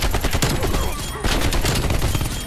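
Rapid bursts of M60 machine-gun fire in a video game rattle continuously with a short pause midway, dense and loud.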